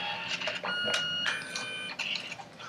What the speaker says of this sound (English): I'm going to hit print, and it is sending it to the printer right now